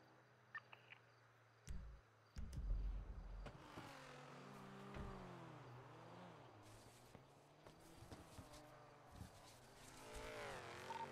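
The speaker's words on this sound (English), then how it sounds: "With the amount of speeding vehicles I just heard, likely a race." Cars speeding past in a street race in GTA V, engine tones rising and falling as several vehicles pass at middle distance, with a few loud thumps early on and a steady layered whine of passing cars throughout.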